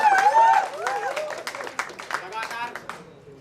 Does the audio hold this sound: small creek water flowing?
no